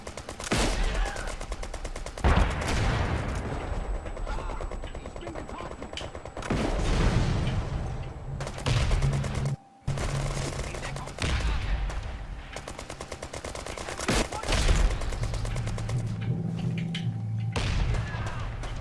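Gunfire in a sniper mission of the shooter game Brothers in Arms 3: repeated bursts of automatic fire and single shots, loud and close, rattling almost continuously with a brief silent gap midway.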